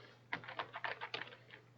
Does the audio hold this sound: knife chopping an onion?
no